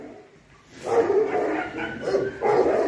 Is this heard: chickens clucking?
no